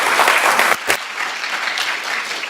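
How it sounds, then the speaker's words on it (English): Audience applause in a conference room, dense steady clapping that fills the moment, briefly dipping then continuing at a slightly lower level to the end. "One more big applause, please."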